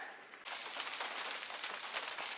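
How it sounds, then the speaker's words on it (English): Rain begins falling outside a wooden trail shelter on the Appalachian Trail, starting as a soft hiss and then swelling into a steady, dense patter of drops on the surfaces nearby. "So it's starting to rain again."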